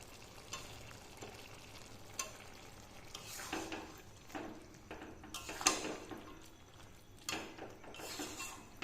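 Potatoes and a hilsa fish head go into a simmering bottle gourd curry, giving soft stirring, scraping and gentle sizzling with a few sharp clinks of a utensil against the pot, moderately close with no talking.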